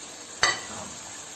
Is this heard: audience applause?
no